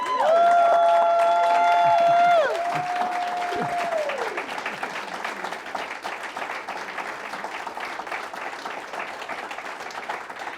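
An audience at a conference plenary session applauds the panelists: dense, steady clapping from a crowd, with a brief tonal sound at the start, gradually thinning toward the end.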